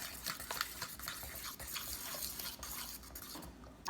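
Banana bread batter being stirred in a bowl, with soft repeated scraping and clinking of a spoon against the bowl, close and steady, with no talking.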